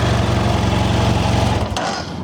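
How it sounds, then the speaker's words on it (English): A BMW F800 GS motorcycle engine runs close up with a fast, pulsing throb that fades and drops off near the end, loud and without talk. "Give her a few quick revs, see how she sounds."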